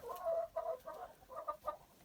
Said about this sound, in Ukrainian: Це наш півень.